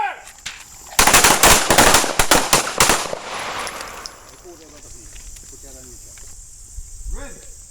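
Pistols fire in a rapid, overlapping volley at a combat pistol workshop, a loud burst of shots that fades into quieter sounds, with people speaking afterward.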